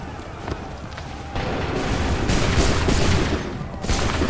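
Musket volley in the video game Assassin's Creed 3 Remastered, a dense roll of gunfire swelling into a heavy, sustained crackle of many muskets firing together amid battlefield din.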